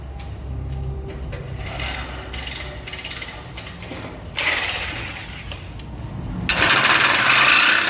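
Cutting a Honda Pilot exhaust pipe produces a steady grinding, rasping mechanical noise that grows louder and harsher toward the end. No one speaks.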